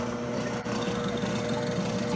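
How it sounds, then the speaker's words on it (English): A drill press drilling holes: a steady, close mechanical whir of a motor running with a constant hum and a slight dip partway through. "I'm now going to drill the holes where I had marked with my drill press"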